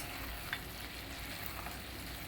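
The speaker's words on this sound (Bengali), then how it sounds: "আরেকবার একটুখানি মিশিয়ে নিই" Chicken curry sizzles steadily in a pan as it is stirred, a soft even frying hiss with faint scraping throughout.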